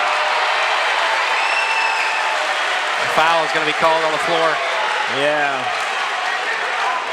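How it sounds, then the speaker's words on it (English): A crowd at a high school girls' basketball super-sectional game reacts loudly after a foul call, with a sustained roar and clapping filling the gym. Short vocal shouts rise above the noise, and a voice briefly speaks. "Highland crowd didn't like it."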